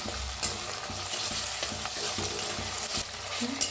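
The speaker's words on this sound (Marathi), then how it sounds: "टमाटो कापून घेतलाय, ती बी घालूया, हलवून त्याला बी छान असं भाजून घेऊया।" Tomatoes stirred and roasted in a pan for a mixed vegetable masala, with a steady close sizzle, soft scraping, and a few sharper clicks of the spoon against the pan. No voices.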